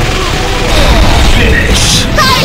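Proton Cannon attack in Marvel vs. Capcom 2, a loud booming arcade blast with crashing, bursting energy noise and a bright sweeping whine near the end, sustained and intense throughout.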